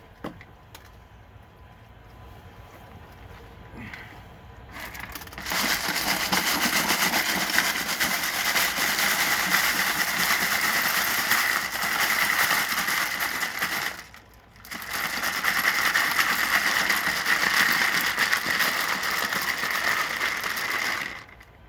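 Gershwin rock tumbler shaking a batch of rocks, a loud continuous rattling and grinding clatter that starts after a quiet lead-in, stops briefly, then resumes.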